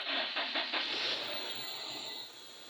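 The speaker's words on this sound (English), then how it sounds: "Sounds like it's still misfiring." A 2003 Toyota Hilux with a 3RZ engine running with a misfire gives a steady, hissing roar, with a few uneven pulses near the start before it settles into a duller, continuous drone. No one speaks.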